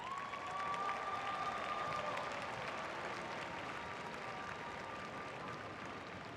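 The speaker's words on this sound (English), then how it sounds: "please join me in giving a warm, very warm City Tech applause to David Bastian" Broad, sustained applause from a large commencement audience at a New York City College of Technology graduation ceremony fills the space steadily and evenly, with no talk over it.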